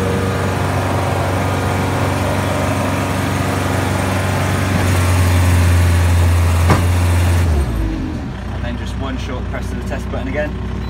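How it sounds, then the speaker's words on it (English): A loud diesel engine of a Manitou telehandler roars at maximum revs, steady and close, then drops abruptly to a lower idle near the end. "now you want to put the machine on maximum revs"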